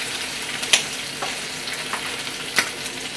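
A couple of eggs frying in a pan give off a bright, steady close-up sizzle and crackle, with a few sharp spits and pops rising above it.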